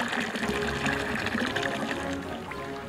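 Water flows from a fountain in Switzerland as a steady, continuous rush and splash that holds at an even level throughout, heard close by with no other distinct sounds.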